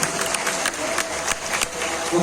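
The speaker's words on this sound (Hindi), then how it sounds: "एक जोरदार ताली से स्वागत किया जाए" Audience clapping at a farewell ceremony for a block education officer, a steady dense patter of applause from a crowd filling the whole moment, with faint voices mixed in.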